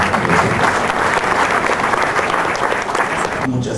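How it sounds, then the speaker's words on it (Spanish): A conference audience applauds a speaker presenting a new 500 W wind turbine design, producing dense, steady clapping that fills the room for a few seconds before fading out. "Un aplauso para el doctor Salomé González Chávez."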